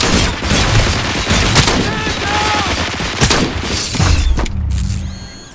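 Rapid gunfire and mechanical weapon clatter from the video game RoboCop: Rogue City, loud and dense, with repeated bursts and booms that end in a ringing metallic tail.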